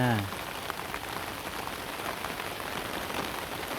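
Steady rain falls on a garden of marigolds and other flowers, a dense even patter of drops hitting surfaces throughout, close and continuous, with a brief voice at the very start.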